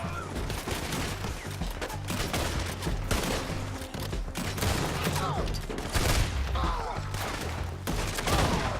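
Repeated gunfire in the video game Red Dead Redemption 2, a dense, continuous fusillade of overlapping shots and cracks with a steady rumble underneath, loud throughout a chaotic gunfight.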